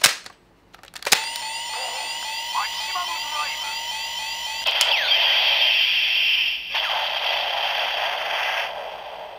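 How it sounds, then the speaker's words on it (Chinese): A Kamen Rider W collector's toy gun fires with a sharp electronic crack, then a long buzzing, warbling electronic tone, a second crack and continued whirring, loud and close with no talking. "你有发现他有一个射击音啊"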